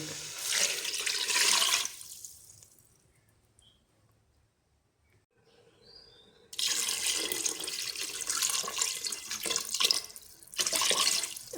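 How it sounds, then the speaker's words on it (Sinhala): Water runs from a tap into a pressure cooker holding chicken pulao ingredients, first as a steady pour, then a quiet pause, then the running water returns, close and continuous. "දාලා දැන් තියෙන වතුර දාන්න"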